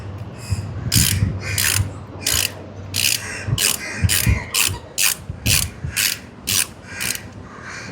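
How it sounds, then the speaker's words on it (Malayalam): Ratchet wrench loosening headlight screws on a Honda H'ness CB350 motorcycle, about a dozen quick, loud metallic clicking bursts in steady rhythm, close up. "അപ്പോൾ ആദ്യം തന്നെ നമുക്ക് ഈ സ്ക്രൂ ലൂസ് ചെയ്ത് നോക്കാം."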